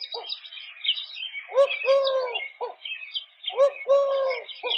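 A winter bird gives soft, owlish, cooing calls in two separate bursts of repeated hollow notes, heard fairly close. Thinner high chirps from other birds run in the background between the bursts.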